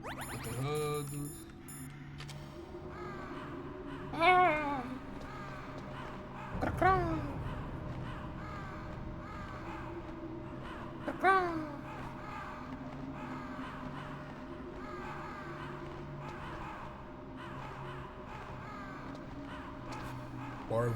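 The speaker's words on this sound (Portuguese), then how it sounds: "Corvos." Crows caw in the Metal Gear Solid video game, harsh calls repeating every few seconds over a steady low ambient hum.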